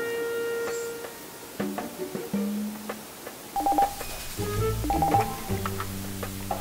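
A telephone being dialed to reach the fire station, a series of short keypad tones in uneven rhythm followed by ringing tones, close and clear with no talk over it.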